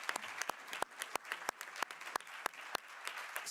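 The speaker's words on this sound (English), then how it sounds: "a round of applause for you" Sparse, faint clapping from a small audience at a political programme event on EU enlargement, individual sharp claps spaced irregularly over a few seconds.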